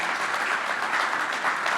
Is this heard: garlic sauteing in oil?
no